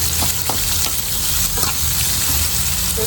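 Garlic, fried until caramelised and slightly burnt, sizzles with tomato in a pan: a loud, continuous crackling fry close by, with scraping stir noises and small pops throughout.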